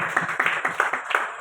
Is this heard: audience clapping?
yes